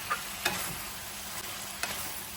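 Spicy chicken with bamboo shoots, kaffir lime leaves and chili is stir-fried in a pan, giving a steady sizzle broken by a few scraping strokes of the spatula.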